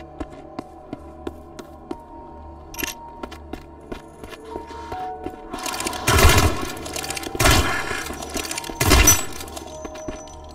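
Video game weapon gunfire in three loud, dense bursts near the end, following a stretch of quieter ticking and tapping game sounds.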